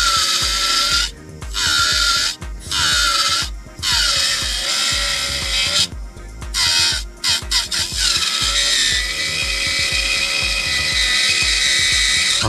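A rotary tool grinds the plastic body of a Hasegawa 1/24 Lancia Stratos HF 1977 Monte Carlo Rally model kit, giving loud, close, high-pitched whining bursts broken by short pauses, then running steadily to the end.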